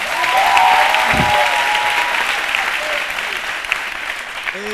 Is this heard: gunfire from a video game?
no